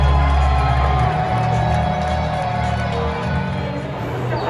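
Seattle Kraken hockey crowd at an arena, a loud roar of cheering and whoops that swells at the start and then settles into a sustained crowd noise, no single voice standing out.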